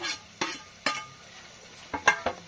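Tomato pieces and spring onion being stir-fried in a pan: a series of sharp scraping stirs and clanks over a faint background sizzle, about six distinct strokes.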